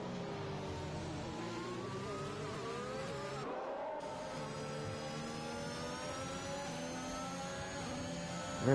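Formula 1 cars in the F1 2021 racing game at the Portugal circuit, engines whining and shifting pitch as they run wheel to wheel, a steady loud drone with rising and falling revs throughout.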